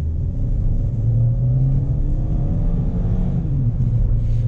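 A 2018 Kia Rio pulls out of a gas station onto a highway, its mid-pitched engine rumbling loudly and steadily as it accelerates to merge, with no talking.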